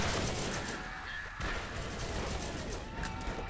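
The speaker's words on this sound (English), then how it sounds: "Shooting rockets now because there's so many of them." Rocket launcher fire in the video game Borderlands, with a dense barrage of blasts and explosions coming one after another, loud and continuous, and a faint voice underneath.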